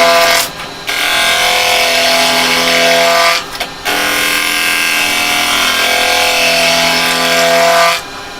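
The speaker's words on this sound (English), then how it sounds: "Just going to nibble away a few bits first, get those corners out of the way." A woodturning gouge nibbles the corners off a spinning blank on a lathe, giving a loud, steady rough grinding whine that runs for long stretches, broken by two short gaps where the cut stops.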